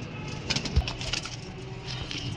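A pigeon coos softly several times in a row in a pigeon-keeping setting. The calls are fairly faint and mixed with light background noise.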